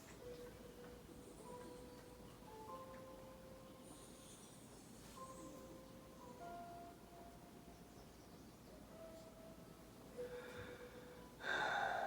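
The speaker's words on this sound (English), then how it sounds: "Scotty, why are you, like, panting?" A character pants in the Hercule Poirot: First Cases video game, with soft repeated breathy gasps under quiet musical tones, ending in a sudden louder burst of noise.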